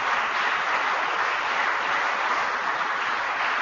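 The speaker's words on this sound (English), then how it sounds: "Let's give both of these groups a round of applause" Applause for agriculture groups at an Agriculture Day speech, a dense, even sustained clapping from a large crowd that is heard alone and fills the whole stretch at steady loudness.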